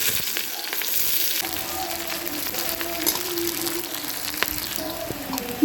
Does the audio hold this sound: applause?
no